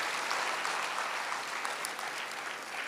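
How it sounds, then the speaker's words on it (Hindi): Steady, dense applause from a seated crowd of pilgrims at a devotional gathering, filling the clip evenly at a moderate distance with no pauses. "आप सभी के लिए सब जोरदार तालियां सभी के लिए"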